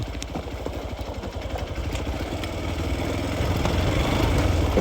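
A Hero Xpulse 200 off-road motorcycle engine runs steadily up close on rough terrain, its low rumble building slightly louder toward the end, with some clattering.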